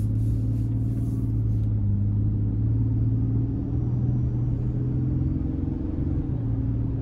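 A 2024 Toyota Tundra Limited Nightshade with the i-Force MAX 3.4-liter twin-turbo V6, a low, steady engine drone heard from inside the cab while driving, with a faint shift in pitch as it pulls and no talking.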